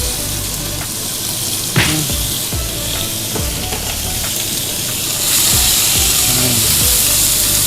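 Loud, continuous sizzling of chopped chicken and egg stir-frying in a hot wok, with occasional scraping and clanking of a utensil against the pan.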